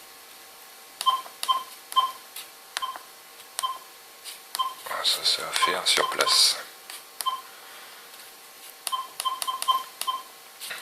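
E-Trac metal detector sounding short repeated tones, in two-tone and four-tone ferrous discrimination modes, a steady run of clear beeps with a cluster of brief close speech in the middle.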